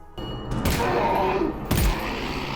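Gunfire in the VR game Half-Life: Alyx, two heavy booming shots with rumbling tails over a dense game soundscape.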